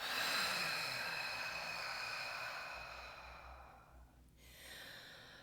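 One long, soft exhale pushed out during a guided breathing exercise, a breathy hiss that gradually fades, followed by a brief pause and a quieter start of the next breath near the end.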